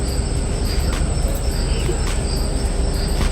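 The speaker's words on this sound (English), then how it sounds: "Crickets and bullfrogs." Crickets chirp steadily outdoors at night, a dense, continuous trill with faint repeated pulses and no talking, heard alongside bullfrogs somewhere in the background of the natural soundscape.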